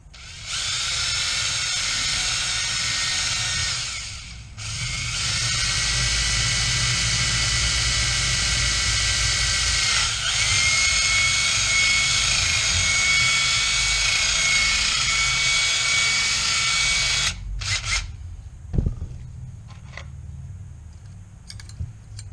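A drill enlarges a rivet hole in a sending unit during a rebuild, a loud continuous high whine running for most of the stretch with a brief dip early on, then stopping and followed by a few clicks and knocks.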